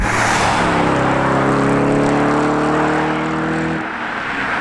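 A modified Audi B7 RS4 driving on a damp British country B road, its engine note holding steady and droning loud and close before easing off near the end.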